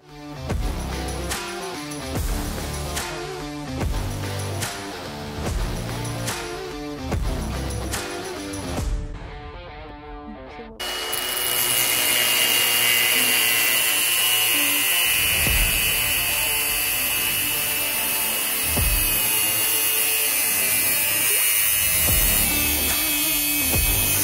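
A power tool cuts through steel steering column tubing in a workshop, a loud steady high-pitched grinding that holds for the second half after a quieter, rhythmic stretch.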